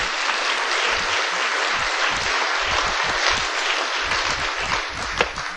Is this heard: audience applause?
yes